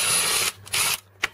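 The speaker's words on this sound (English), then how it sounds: "Now you take these four screws out." A cordless power screwdriver whirring in short bursts as screws are backed out of a Jayco Expanda camper cupboard panel, close up, with brief pauses between runs.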